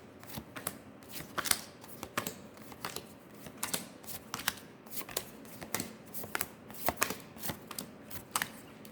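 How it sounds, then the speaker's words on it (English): Cards shuffled repeatedly, with crisp riffling bursts and light snaps in an irregular rhythm, close up and with no talking. "I'm going to shuffle them even more"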